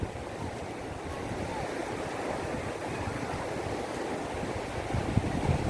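Sea waves wash continuously onto the sand at Jomtien beach, a steady broadband surf roar with some wind noise and no speech.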